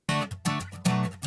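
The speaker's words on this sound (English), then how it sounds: "I've got a very, very dry acoustic guitar here" A dry acoustic guitar plays a few separate strummed chords with short gaps between them, close and clean with almost no room echo.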